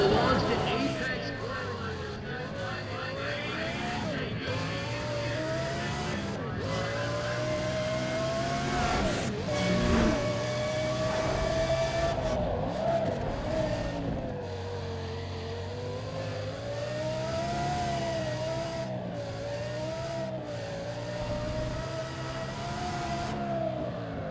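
Pagani Zonda race cars scream around a track in Need for Speed ProStreet, engines wailing continuously with rising and falling pitch as gears change, under steady crowd babble and an announcer-style voice.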